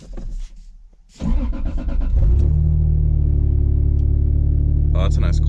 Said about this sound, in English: that's a nice cold start